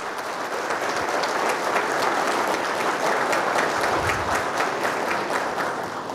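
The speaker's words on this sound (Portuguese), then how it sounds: "peço uma salva de palmas a vocês" Applause for army reservists at a special session. A large audience claps loudly and steadily for over six seconds in a dense, continuous roar, with faint voices underneath.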